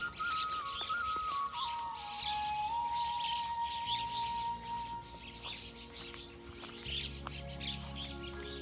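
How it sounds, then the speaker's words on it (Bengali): Several bird chirps and calls ring out over a steady outdoor background in a quiet jungle, with a low hum underneath and a long whistle-like tone drifting down early on. "পাখির ডাক শুনতে পাচ্ছি"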